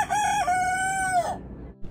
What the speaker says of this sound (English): having the roosters right next to his house causing a commotion